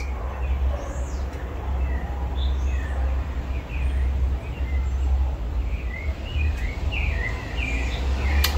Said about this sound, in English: And some nice bird songs.